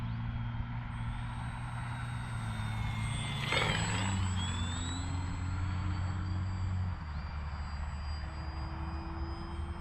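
A Glastar V2 RC model plane with flaperons drones steadily with an electric motor whine that rises in pitch as it passes and then settles, heard outdoors at moderate distance.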